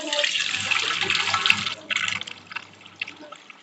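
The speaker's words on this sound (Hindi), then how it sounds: "हम दूध डालेंगे 1 कप" Milk poured into a pan with ghee on a gas stove, a close splashing, trickling pour that is strongest at first and breaks into smaller drips and splashes toward the end.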